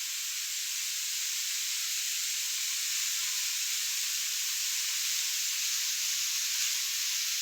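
Spices frying in hot oil in a home kitchen pan at night, giving a steady, loud, close sizzle that holds evenly for the whole stretch with no pauses and no talk.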